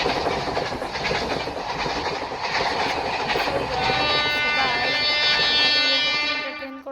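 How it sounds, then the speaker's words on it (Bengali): A train passes a level crossing in an Indian railway crossing simulator game: a continuous rumble and clickety-clack of wagons, then a long, loud horn blast near the end before the sound fades. "ট্রেন এসেছে চলে"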